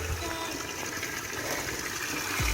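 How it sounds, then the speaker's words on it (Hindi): Spring water flows steadily at an old village spring in Azad Kashmir, making a continuous gushing, splashing rush that stays fairly even throughout, close by with no talking. "ये जो चश्मा है ये अपनी आबोताब के साथ वैसे का वैसा बह रहा है।"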